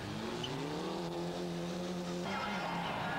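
Didier Auriol's Toyota rally car races a stage of the 1999 Rally de Portugal. The engine note holds a sustained, rising drone with crowd and ambient noise behind it, and the pitch shifts partway through as the car passes. No voices are heard.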